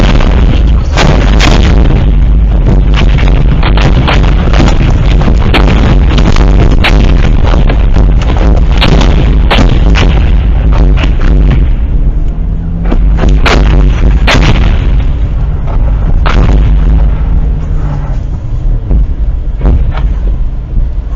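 Mortar fire explodes near a highway in wartime Ukraine, with repeated booming blasts and sharp cracks over a constant loud wind-buffeted rumble, no voices, as a car drives through.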